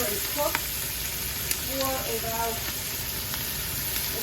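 Onions cooking with thyme and a bay leaf in a pot over medium-low heat, a soft steady sizzle with occasional light stirring clicks, close and quiet, with a brief word of speech.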